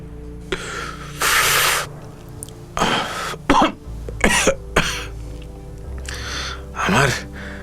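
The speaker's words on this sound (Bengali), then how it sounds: "খুক খুক করে কাশছে।" A man coughing as he clumsily smokes a cigarette: a few harsh, close coughs and throat-clearing bursts in uneven rhythm, separated by breathy pauses.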